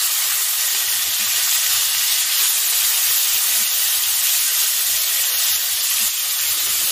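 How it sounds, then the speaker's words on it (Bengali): Turmeric-and-salt marinated prawns, peeled and headless, fry in hot oil in a wok with a loud, steady hiss and sizzle, continuous and close, with no talking. "আমি কেটে বেছে ধুয়ে রাখা চিংড়ি মাছটা হলুদ লবণ দিয়ে ম্যারিনেট করে নিয়ে নিয়েছিলাম, সেটাকে আমি আগে ভেজে নিচ্ছি।"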